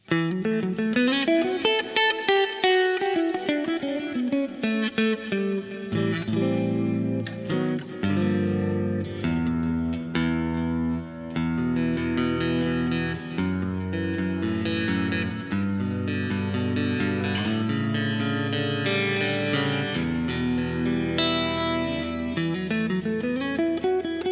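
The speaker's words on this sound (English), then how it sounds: "This would be traditionally like the single coil sound" Ibanez GIO 7-string electric guitar with Fishman Fluence pickups in the single-coil voicing, tone fully up, played continuously with sustained notes and chord changes, heavily processed through effects with a bright, ringing, driven tone and no talking.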